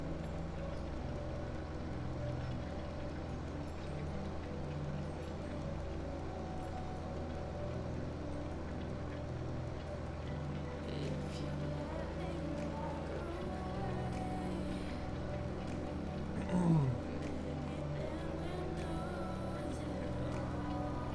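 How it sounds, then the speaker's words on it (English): A farming-game tractor hauling a cultivator labours under the load, its low engine drone steady and fairly quiet throughout, with one brief louder clunk near the end. "This tractor's not powerful enough for this cultivator. You can I wish you guys could feel how much this is struggling"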